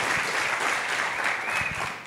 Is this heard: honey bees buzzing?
no